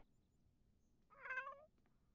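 A single short cat meow from a video game sounds out clearly over near silence, rising and falling over about half a second.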